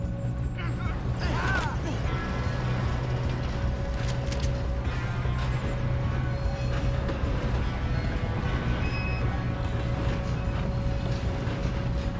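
A moving train in the video game Red Dead Redemption 2 rumbles steadily and loudly throughout, with rattling rail noise, a brief metallic squeal and faint shouting voices mixed in.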